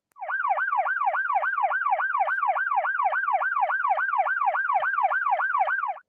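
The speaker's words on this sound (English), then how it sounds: "Are you head bobbing to the siren?" A loud electronic siren wails in a fast, steady yelp, rising and falling about three times a second for six seconds, with no other sound.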